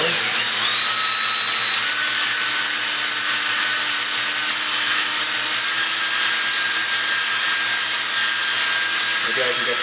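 Steady whining drone of a power drill driving a hone inside a Polaris Indy 440 snowmobile fan cylinder, continuous and loud at an even pitch for the whole stretch, with faint talk beneath.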